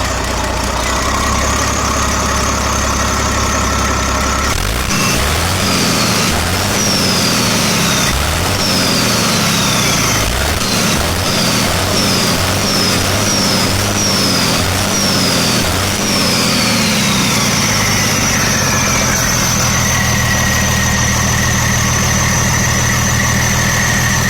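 Leyland truck fitted with a CAT engine running, a loud diesel idle that turns into rhythmic revving with repeated gear-like pulses, then settles back to a steady rumble.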